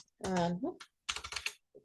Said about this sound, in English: we can start typing that out.